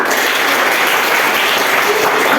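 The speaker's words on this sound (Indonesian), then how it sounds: "Silakan tepuk tangan semuanya." A group of children clap their hands in a classroom, a dense, loud burst of applause that holds steady from start to finish.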